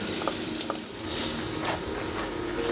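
Spice paste stirred and frying in oil-released masala for a restaurant-style butter paneer, a steady close sizzle with soft scraping stirs and occasional spatula taps, no voices.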